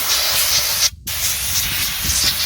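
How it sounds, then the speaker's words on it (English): Continuous hissing aerosol spray of lanolin-based rust undercoat on a Toyota Prius underside near the brake rotor, close and loud, with one brief pause near the middle before the spray resumes. "spray that as well."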